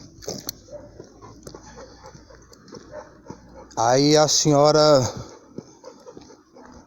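Dogs at a condominium entrance give a few short barks and whimpers, then a loud, sustained burst of close barking or howling in the middle, with a voice speaking briefly over the quieter parts.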